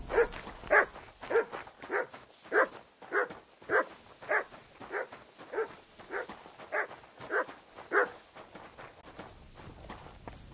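A dog in the medieval video game Kingdom Come Deliverance 2 barks about a dozen times in a steady, evenly spaced rhythm, clear and fairly close, with no talk over it.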